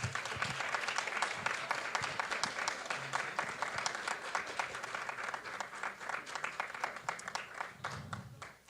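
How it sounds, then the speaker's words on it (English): An audience claps for an award winner at the Falling Walls Lab Ecuador 2025 event, with dense, steady applause from many hands that holds throughout and tapers at the close, with a faint low voice underneath. "And a big round of applause."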